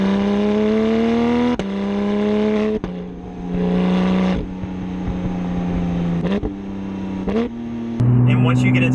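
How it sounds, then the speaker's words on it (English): A Porsche GT3 RS flat-six is driven hard on the road, loud and close, climbing through repeated high-rev pulls, each ending in a sharp gearshift break before the next rise. "That flat six lets out a sound that is unlike anything I've ever driven."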